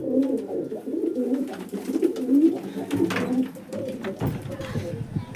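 Soft, low pigeon coos repeat in a steady murmur, close by, with some faint background voices and rustling; pigeons sitting on eggs in nesting boxes.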